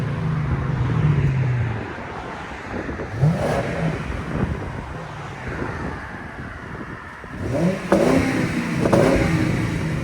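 A Ford Crown Victoria's 4.6-liter V8 revs up outdoors, rising and falling in a few throttle blips over a steady rumble, with some wind noise across the mic.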